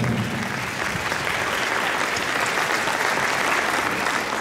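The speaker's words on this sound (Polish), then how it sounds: "Wielkie, wielkie brawa." An audience at a municipal 40th-anniversary jubilee ceremony in Pakosław claps loudly and continuously as an honorary title is awarded, a dense, sustained wave of applause close at hand.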